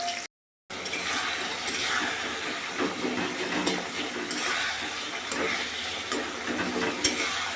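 Potatoes fry in hot oil with nigella seeds, tomato and green chili, producing a steady, close sizzling hiss with faint crackles that continues throughout after a brief dropout at the start.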